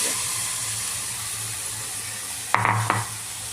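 Spinach and dill greens go into a pan of roasted crushed peanuts for a Maharashtrian bhaji, giving a steady hiss of sizzling with a short clatter of stirring near the end.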